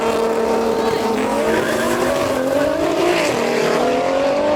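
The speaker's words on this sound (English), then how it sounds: "Oh, the Audi got a good start." A tuned Audi S3 launches in a drag race against a tuned BMW M140i and a Lamborghini Revuelto, engines roaring loud and close without a break while tires squeal and the pitch climbs through the gears.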